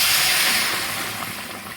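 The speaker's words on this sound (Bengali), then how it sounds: "একদম জল টকবক করে ঘোড়ার মতন ফুটছে" A pot of water boils hard for a cauliflower fish curry, giving a loud, close, rushing hiss and bubbling roar that fades slightly over a brief moment.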